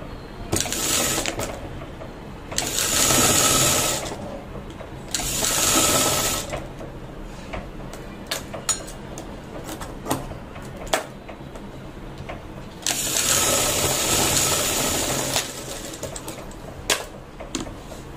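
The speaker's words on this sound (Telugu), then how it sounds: "తర్వాత రెండో సైడ్ కూడా ఇలానే కుట్టేస్తున్నాను." A sewing machine stitches the second side of a blouse. It runs in several close, whirring bursts of rapid stitching, separated by short pauses with light mechanical clicks and handling.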